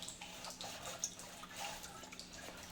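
Water runs and drips from an electric geyser being descaled, its inner pipe blocked with salt buildup; faint, irregular drips and a soft trickle with no voices.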